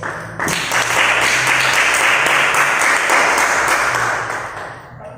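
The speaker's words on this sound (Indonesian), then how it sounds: "tepuk tangan dulu untuk kelompok" A class breaks into loud, sustained applause for a student group, many hands clapping together for several seconds before it tapers off.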